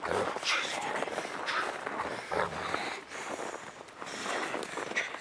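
A dog barks on command during protection training, giving repeated sharp barks and yips close by, mixed with the handler's voice and some shuffling movement.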